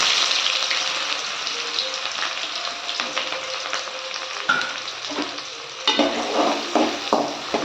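Chopped onions sautéing in a pan after mustard seeds have popped, for a curry leaf kuzhambu, a continuous close sizzle with occasional spatula scrapes and stirs.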